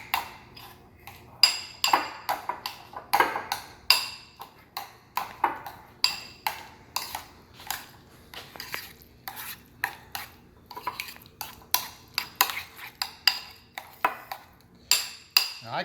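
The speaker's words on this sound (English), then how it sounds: "mixing up this delicious mixture" A spoon stirs creamy deviled egg filling with jalapeños and relish in a bowl, producing steady, rhythmic clinks and soft scrapes at close range, fairly quiet throughout.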